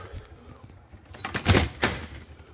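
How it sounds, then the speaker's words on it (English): The door of an IGT S+ slot machine being shut, a couple of soft rattles followed by two sharp metallic clunks close together as it closes and latches. "So we'll shut this door."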